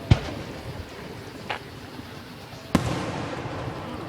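Fireworks at a Milan display pop sharply in three separate bursts, two loud and one fainter, heard from a distance over a steady outdoor hiss.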